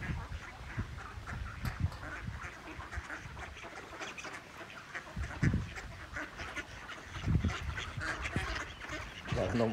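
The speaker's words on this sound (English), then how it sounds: "A lot of duck and geese along here, more than I've ever seen." Ducks quack and geese honk intermittently at moderate distance along the Norfolk Broads waterway, scattered calls rising and falling over a quiet outdoor background.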